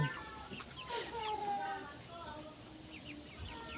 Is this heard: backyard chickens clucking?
yes